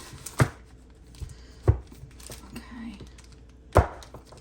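A knife chops down through hard blocks of candy coating, giving three sharp, separate thuds spaced about a second or two apart, close and fairly loud, with quiet handling noise between them.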